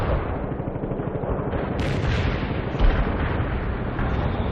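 Heavy fire support shelling in the video game World in Conflict: dense, continuous rumbling barrage of artillery blasts and gunfire, loud and close, with a sharper burst partway through.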